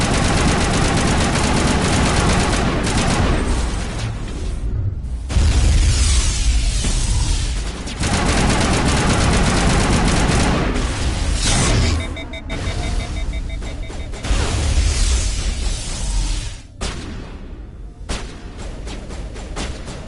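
Sustained gunfire in Mass Effect: loud rapid automatic bursts and heavy blasts in several long volleys, broken by brief pauses, with a short shouted voice mixed in.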